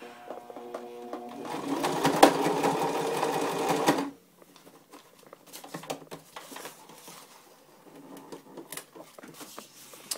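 Sewing machine stitching a seam on a double-ended stuff sack, a close, steady whirring hum for about four seconds before stopping abruptly, followed by quiet fabric rustling and soft handling clicks.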